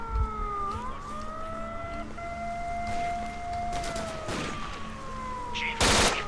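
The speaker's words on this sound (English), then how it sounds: "somebody's shooting at me now" Gunfire in the video game STALKER: Shadow of Chernobyl, heard as scattered distant shots and a loud burst near the end, over a wailing siren-like tone and steady background drone.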